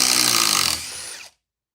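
RIDGID 4-mode cordless driver sinking a large Spax PowerLag fastener into wood, a loud close whir that drops in pitch as the lag seats, then stops abruptly into silence.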